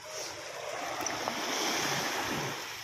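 Sea waves wash along the shore where shellfish are gathered, a broad, steady hiss and rush with a gentle swell, mixed with wind, and no voices.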